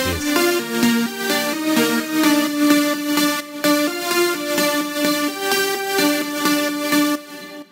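Several EDM synth leads stack into one thick, bright lead melody, loud and steady, pulsing rhythmically through a short catchy phrase.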